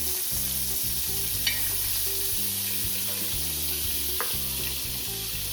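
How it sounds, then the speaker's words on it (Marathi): Butter and oil sizzle in a pan for toasting pav, a steady close frying hiss with a couple of sharp clicks over a low hum, and no talking. "आता आपण यात बटर घालून घेणार आहोत."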